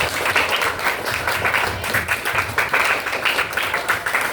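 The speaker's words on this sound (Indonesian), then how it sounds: "give applause tepuk tangan yang keras" A seventh-grade English class claps loudly, a steady, dense patter of many hands close by that continues without a break and without voices.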